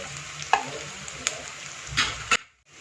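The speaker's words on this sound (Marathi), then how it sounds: "बदाम फूल, लवंग, दालचिनी। हे 2 मिनिटच असं परतून घेणार आहे, जास्त परतणार नाही।" Whole spices such as cloves, cinnamon and star anise frying in a pan for palak paneer, a low steady sizzle broken by a few sharp utensil knocks, then a brief drop to silence near the end.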